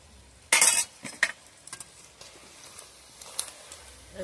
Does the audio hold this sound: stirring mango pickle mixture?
yes